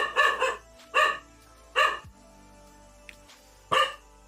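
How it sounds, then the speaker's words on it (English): A dog barks four times in loud, separate bursts spaced about a second apart, with quiet gaps and no talk, heard indoors during a live gaming stream. "Please tell me if he's like barking your ears off at the moment."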